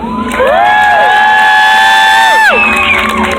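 A state fair hypnotist show audience cheers loudly, with sustained whoops and shouts over a roar of crowd noise that swells near, then cuts off abruptly.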